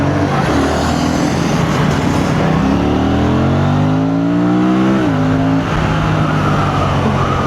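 An Aprilia RS457 motorcycle on the road between Chandigarh and Jammu accelerates hard, its engine note climbing steadily and then dropping at a smooth clutchless upshift, loud and close over heavy wind rush.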